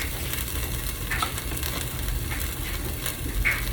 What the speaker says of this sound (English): Next, we're gonna toast our spices.